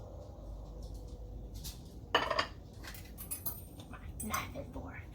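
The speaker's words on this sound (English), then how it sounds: "Knife and fork." Knife and fork clink and scrape against a plate while cutting into an open-face tuna melt with a cheese crisp, a few sharp metallic taps and scrapes over quiet room noise.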